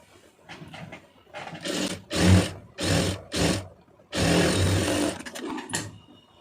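An electric sewing machine stitches a saree border onto a puff sleeve in short bursts of rapid whirring, several runs of one to two seconds separated by pauses, close and loud.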